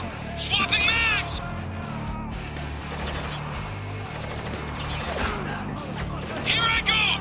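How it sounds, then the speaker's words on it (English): A gun magazine is swapped in a shooter video game, with short mechanical clicks and rattles heard over a low background rumble while game voices talk. "Swapping mags!"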